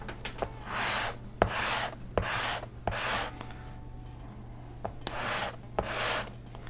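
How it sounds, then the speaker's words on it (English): Small model rocket parts rubbed back and forth on 320-grit sandpaper, a series of short scratchy rasping strokes about six or seven times, close and quiet over a low background hum. "we're just going to run them down the sandpaper to sand off those little nubs"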